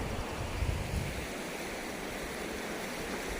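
Sea waves wash steadily onto the shore during monsoon-season bait fishing, making a constant broad roar with a slightly stronger surge near the start and some wind on the microphone.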